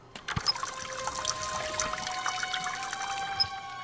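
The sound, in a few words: water poured onto a rag in the video game The Raven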